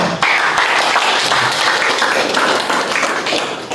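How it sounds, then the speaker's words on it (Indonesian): Audience applause at a ceremony inducting a village community security group in Batubara, Indonesia: dense, steady clapping from a crowd, loud and close, filling the whole stretch before tapering slightly at the end. "Jadi kita berikan tepuk tangan"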